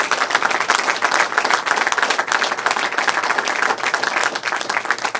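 Sustained, dense crowd applause at an election night event, many hands clapping loudly and continuously for several seconds with no pause.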